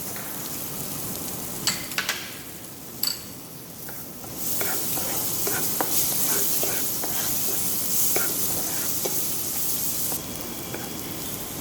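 Chopped onions tipped into a hot pan for a mushroom ravioli sauce: a few clattering knocks at first, then a loud, steady hiss of frying with faint scraping, close up and without speech.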